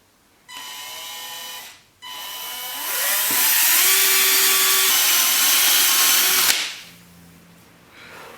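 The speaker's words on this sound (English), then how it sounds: "we're just going to put an actual hole in the rotor and just put a fitting in" A power drill with a 6mm bit whirs in short bursts and then grinds steadily into the metal brake rotor of a dirt bike, loud and close, the motor pitch rising as it bites before stopping abruptly; no talk.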